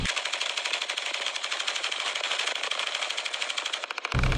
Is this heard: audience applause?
no